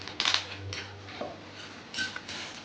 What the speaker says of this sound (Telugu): ఇలా వేయించుకోవాలి వేయించుకొని ఇవి కూడా పక్క తీసి